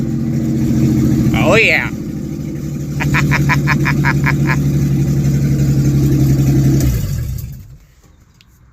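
A 1953 Mercury car engine idles loudly and close with a deep, steady drone, then settles and cuts to quiet near the end. A brief voice and a short burst of rapid ticking break over the running engine.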